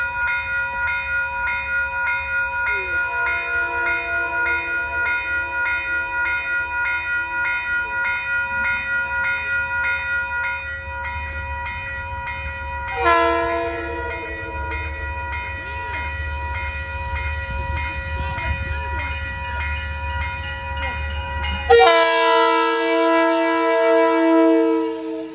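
Metro North train 8844 bound for Grand Central from Poughkeepsie rolls past the Manitou stop on the Hudson line. It gives a steady, loud rumble with sustained horn tones and two sharper horn blasts near the end, and no one talks.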